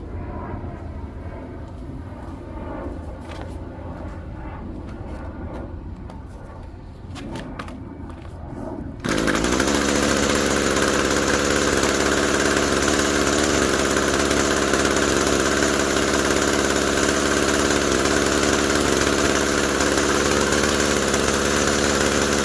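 An Echo SRM-2320T string trimmer with a new carburetor and filter cover kit, quiet at first, then its small two-stroke engine fires partway through and settles into a loud, steady, close idle for the remaining time, with no talk.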